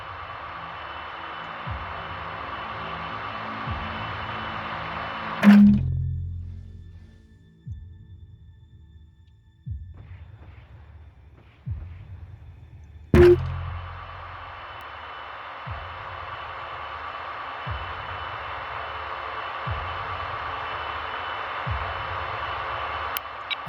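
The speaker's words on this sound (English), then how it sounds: "Preparing missile launch." A missile launch in the space combat game Nebulous Fleet Command, two sharp loud launch bursts rising over a steady droning engine hum, with periodic low pulses throughout and no voices.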